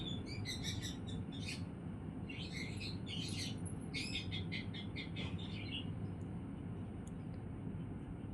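Pet birds chirp around feeding time in a home, bursts of bright, rapid tweets in the first six seconds, then fading to quiet over a low steady rumble.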